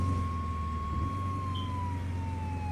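A wailing emergency vehicle siren in the video game Flashing Lights sweeps slowly over a low engine rumble, its pitch gliding gradually downward, steady and moderately loud.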